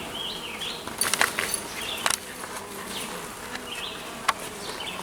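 Honeybees buzz close and steady inside a Kenyan top bar hive while building new comb, with individual bees droning past over the constant hum.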